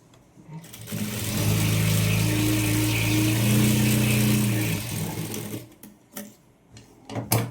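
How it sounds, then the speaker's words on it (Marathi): An electric sewing machine stitching fabric, a loud steady motor whir with rapid needle clatter running for several seconds, then stopping, followed by a few clicks and handling knocks. "आता इथे याला टीप मारून घेणार आहे"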